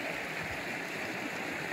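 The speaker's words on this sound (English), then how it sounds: "The river goes on for a long ways." Steady broadband rush of a river flowing past, continuous and fairly close with no break in its texture, the kind of water that holds small trout.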